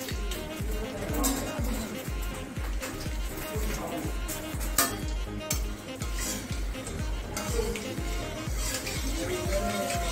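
Cardamom, cloves and cinnamon sizzle in hot oil for a restaurant-style chicken dish, a steady crackling fry with faint utensil clinks, while a voice speaks over it.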